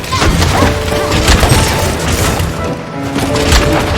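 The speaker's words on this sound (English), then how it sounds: "So it explodes into elements of fire." Booming impacts crash repeatedly as a fire-element charge blade detonates in Monster Hunter, layered with crackling in-game combat noise throughout.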